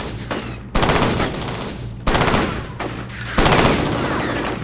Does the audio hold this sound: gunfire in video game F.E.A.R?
yes